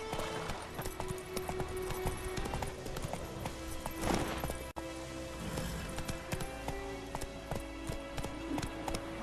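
Hooves of the horse Roach in The Witcher 3 clip-clopping steadily along at a walking pace, a continuous rhythmic patter of hoofbeats under game ambience, with no talking.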